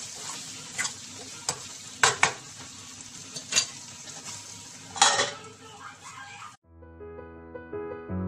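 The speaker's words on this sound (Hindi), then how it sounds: "ये आलू ऐड करके इसे अच्छे से मिक्स करना है" Potatoes being mixed in a pan with curry leaves, sizzling faintly while a utensil clinks and scrapes the metal several times in an irregular rhythm, close by, before the sound cuts to a short music tail.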